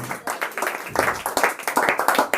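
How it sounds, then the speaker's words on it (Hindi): Classroom students clapping together, a brisk round of irregular hand claps close by for a couple of seconds. "तो ताली बजाइए।"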